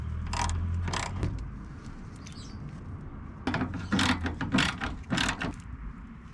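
A ratchet fitted with a Torx T30 bit turning out screws from a black plastic bracket behind a car fender, quick bursts of sharp clicking, two short runs then several more after a pause, close and fairly quiet.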